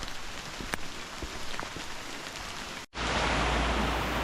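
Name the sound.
pouring rain in Costa Rican rainforest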